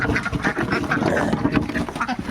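Several ducks quack busily and overlapping while being fed, a noisy, close chorus of nasal calls that continues without pause.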